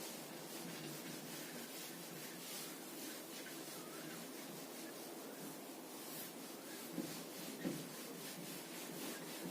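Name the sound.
rubbing out writing on a board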